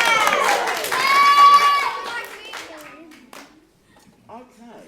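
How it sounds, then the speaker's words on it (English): Applause for a school quiz contestant who answered correctly: a short, full burst of clapping from an audience that fades over a few seconds, with children's voices and talk mixed in. "Give him a round of applause."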